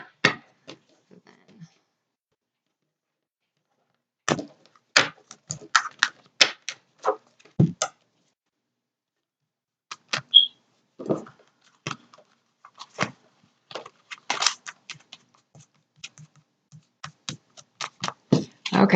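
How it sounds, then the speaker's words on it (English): Tarot cards being shuffled produce bursts of soft, crisp clicks and flutters in irregular clusters, close and quiet, with brief silent pauses between them. "Okay, so I'm just going to shuffle once."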